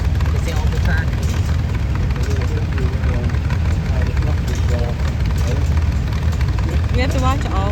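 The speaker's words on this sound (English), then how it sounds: "It's the old tractors." Vintage tractors roll past in a steam and gas engine parade, their engines droning loudly and continuously up close while voices chat over the noise.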